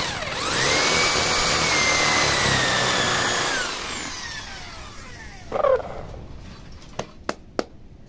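An electric drill bores into wood while a handmade wooden bird is crafted, a loud sustained whine for about four seconds that slows and fades, followed by a brief clunk and a few sharp knocks.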